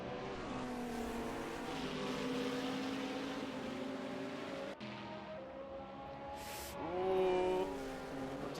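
Sim racing engines from an ATCC touring car race at Newcastle, including a Volvo with worn rear tyres, drone steadily and close, with a louder rising rev toward the end and no talk.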